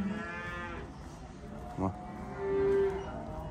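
Cattle moo at a busy livestock market selling young bulls and heifers, with one drawn-out low moo near the start and another brief call later, set against constant crowd and yard noise.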